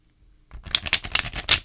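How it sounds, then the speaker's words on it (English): A brand-new Tarot of Pagan Cats card deck is shuffled close up: after a brief quiet moment, a quick run of crisp, papery riffling clicks follows. "I look forward to shuffling this because I know it's going to shuffle well"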